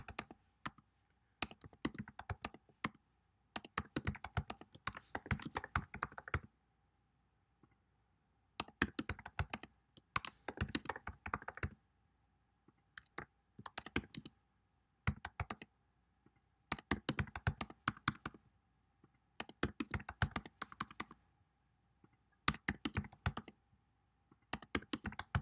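Someone types on a computer keyboard while filling out a form: quiet, close, rapid key clicks in bursts separated by short pauses.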